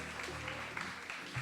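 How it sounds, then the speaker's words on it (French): Applause from a pageant audience at Miss Interlycée 2021 after a stage performance, a brief, moderate wash of clapping over a sustained musical backing. "Tonnerre d'applaudissements,"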